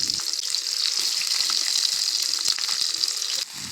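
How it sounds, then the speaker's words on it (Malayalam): Small shallots sautéing in coconut oil in a pan, a loud, continuous hissing sizzle with occasional pops and stirring clicks, close by and without talk. "ഒരു ചട്ടി എടുക്കുക, അതിലേക്ക് ലേശം വെളിച്ചെണ്ണ ഒഴിച്ചു കൊടുക്കുക, കുറച്ച് ചെറിയ ഉള്ളി ഇട്ട് കൊടുക്കുക, എന്നിട്ട് ഒന്ന് വഴറ്റി കൊടുക്കുക"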